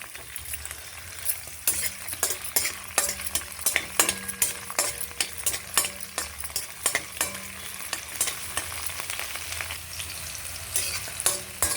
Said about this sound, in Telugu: పచ్చిమిరపకాయలు, వెల్లుల్లిపాయలు వేగిపోయాయి.